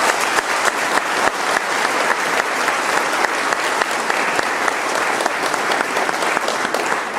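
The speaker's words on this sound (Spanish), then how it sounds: "Aplausos para el Rey de Reyes," Sustained applause from a church congregation, dense and steady clapping filling the whole stretch at close range, with no pause.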